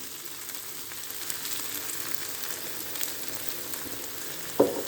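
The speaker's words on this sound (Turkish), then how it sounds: "Şimdi de krema ekliyorum." A chicken and mushroom sauté sizzles quietly in a pan, a steady low frying hiss, and liquid cream is poured in near the end, bringing a brief louder burst of sizzle.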